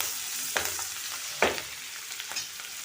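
Chopped capsicum lands in a tawa for street-style tawa pulao and starts sizzling, two sharper bursts of frying noise over a steady crackle.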